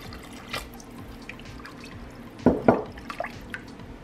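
Water being poured into an Instant Pot, heard as a faint trickle with scattered drips and two louder splashy bursts near the middle, fairly close.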